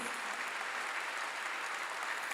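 Congregation applause during a church sermon, a steady, even wash of many hands clapping together throughout, fairly loud and without voices over it.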